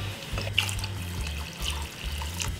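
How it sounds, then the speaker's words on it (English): Water pours steadily into a pot of vegan chicken noodle soup, a loud, close splashing gush with a low burbling tone as the pot fills, no talk. "I'm just gonna add the rest of the water"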